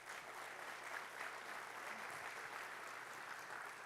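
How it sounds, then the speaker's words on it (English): Crowd applause at a Memorial Day commemorative ceremony, a steady, dense patter of many people clapping, heard at a moderate distance and holding evenly throughout. "A round of applause, please."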